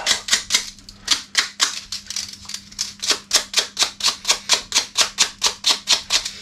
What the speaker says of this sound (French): Un petit coup de papier de verre.